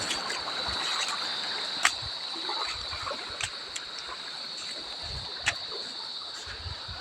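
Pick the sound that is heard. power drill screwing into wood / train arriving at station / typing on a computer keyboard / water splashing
water splashing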